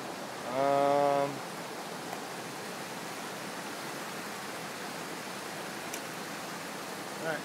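A flowing creek gives a steady broad rush of water, close and constant, with a short whistle or call briefly rising over it near the start.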